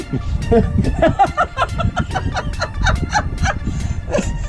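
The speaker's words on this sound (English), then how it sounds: "My chicken got loose." A loose chicken clucks and squawks in rapid repeated bursts, close by, while people talk and chatter around it during a youth deer-hunting outing.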